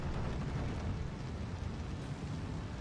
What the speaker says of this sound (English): Yeah, there's the artillery.